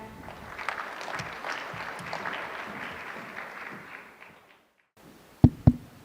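Audience applause at an education and AI forum, steady clapping that fades out after about four seconds, followed by silence and then two sharp knocks or taps nearby.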